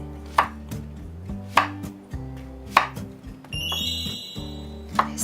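Zucchini is chopped into small pieces with a knife on a cutting board, four crisp, evenly spaced thuds against a low background hum, with a faint high electronic tone briefly sounding partway through.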